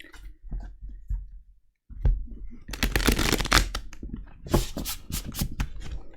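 Tarot cards are handled and shuffled in a quiet room. A few soft taps are followed by a brief pause, then dense bursts of riffling and papery flicking, close and fairly loud.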